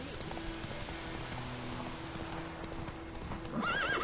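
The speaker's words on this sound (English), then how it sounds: "Whoa there, Roach. Hey-ya!" In The Witcher 3 video game, a horse's hooves clop along rhythmically at close range, ending with a whinny near the close.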